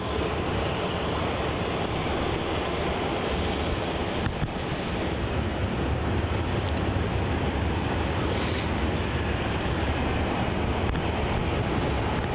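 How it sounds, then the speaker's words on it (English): An Air India Boeing 787 Dreamliner departing Melbourne Airport, heard as a steady, broad engine roar that fills the clip at constant loudness, mixed with wind noise on the microphone. "not too far away from that Air India 787 Dreamliner departure."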